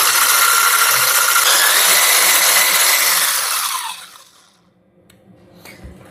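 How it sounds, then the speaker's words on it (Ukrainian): An electric mixer whips very cold cream in a separate bowl for a caramel cake with plombir-style cream, a loud steady whir for about four seconds before cutting off, leaving faint room noise. "В окремій мисці збиваємо дуже холодні вершки до стійкості."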